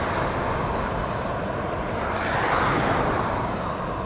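Lufthansa airliner touching down at LAX, a steady broad roar of jet engines that swells slightly toward the end, fairly loud and sustained with no talking.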